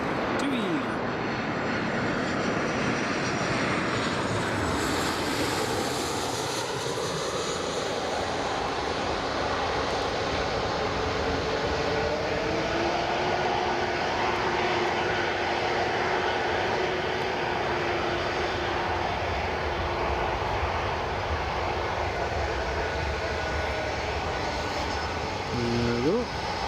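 A fixed-wing airliner arrives on runway 25 at Newcastle International Airport, its engine roar loud and steady throughout, with a slowly shifting whine rising over the broad rumble as it passes close by.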